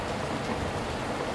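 Heavy rain pours down steadily outdoors during a van build, a dense, even hiss of drops hitting surfaces with no pauses and no voices.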